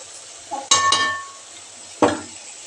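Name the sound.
stirring food in a pot while cooking biryani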